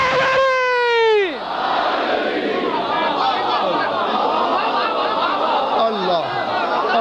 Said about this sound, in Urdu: یک زباں ہو کے نعرے